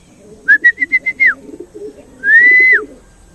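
Racing pigeons at their loft give a quick run of six short, bright calls, then a pause and one longer drawn-out call, fairly close over a low murmur of background noise.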